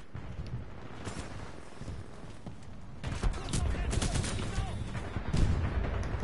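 Gunfire from a weapon in the Fortnite video game, rapid bursts and shots that are continuous and moderately loud, mixed with speech and busier in the second half.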